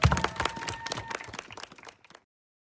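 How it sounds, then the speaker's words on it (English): A short burst of clapping from a small audience, lively at first and then thinning out before stopping after about two seconds. "Let's give them a round of applause."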